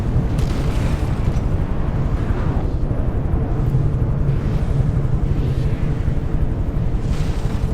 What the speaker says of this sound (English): And a couple of these torpedoes from the wet Weenus are landing.